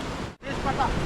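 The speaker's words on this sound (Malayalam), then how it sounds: "അതിന്റെ താഴെ കൂടെ നോക്കിയ മനോഹരമായ ഒരു നദി ഒഴുകുന്നു" A river runs beneath a double-decker living root bridge in Meghalaya, a continuous broad rush of water that is close and steady, briefly dipping for an instant.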